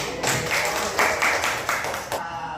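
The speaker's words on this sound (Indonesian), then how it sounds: "Tepuk tangan semuanya." A class clapping together in a dense burst of applause that cuts off sharply after a couple of seconds, after a peer-teaching recitation.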